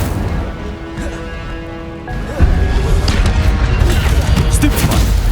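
The Incendio fire spell cast in Hogwarts Legacy, an abrupt whooshing burst that erupts into a loud, sustained roar of crackling impacts over lingering game music.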